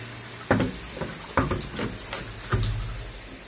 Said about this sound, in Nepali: गइरहेको छ यो पानी अलिक भरिरहेको छ ट्याङ्कीबाट